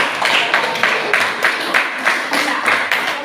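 A group claps in a loosely rhythmic burst, roughly steady pulses of hands that are close and fairly loud, running for a few seconds without any talk over it.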